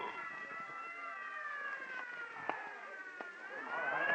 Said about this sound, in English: Clear the way for the ambulance.